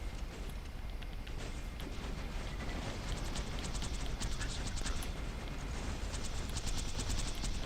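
Sustained rapid fire from a turret in Borderlands 2 on PS Vita, a dense unbroken rattle of shots lasting several seconds, loud and steady, with no voices.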